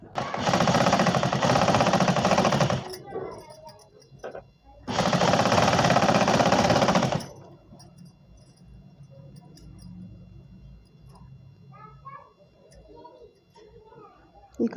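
A sewing machine stitches 4-kali petticoat fabric in two loud, steady bursts of rapid mechanical whirring, each lasting a few seconds. Someone speaks quietly in the pauses between them.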